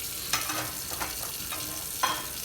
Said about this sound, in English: Which is why I'm doing this while washing dishes.